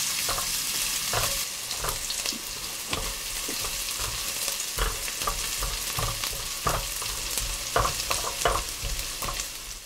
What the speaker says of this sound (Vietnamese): Đợi cho dầu nóng thì mình cho hành tím, tỏi và gừng vào phi cho thơm lên.